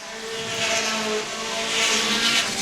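Pure stock race cars roar down the back straightaway during a heat race at Star Speedway, a steady, loud, dense engine drone that swells and recedes slightly as the pack passes, with no talk over it.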